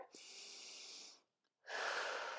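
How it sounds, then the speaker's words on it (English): During a Pilates elephant stretch on a reformer, a person takes two long, close breaths, a steady airy exhale and then an inhale, with a short silent pause between them. "I just want you to take a few breaths here"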